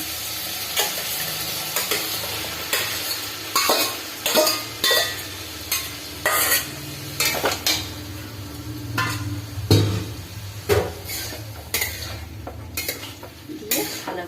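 Boiled banana flower and chickpeas being stir-fried in a pan, with repeated scraping and clattering strokes of a utensil over a low, steady sizzle, close and loud with no talking.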